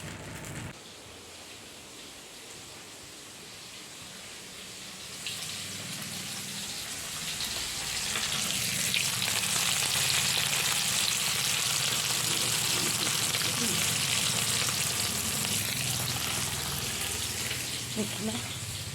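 Fish fries in oil, starting with a quiet hiss that swells after a few seconds into a loud, steady sizzle and stays dense to the end, with no clear voices over it.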